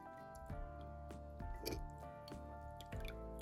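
Hibiscus ink trickling and dripping through a sieve, with repeated soft wet drops and squishy liquid sounds over a steady low hum, close by.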